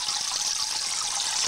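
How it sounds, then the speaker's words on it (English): Constant bright splashing and trickling from an aquarium filter set on its side in a shubunkin goldfish tank, a close, steady hiss of falling water without pause. "you set your filter up on side, and"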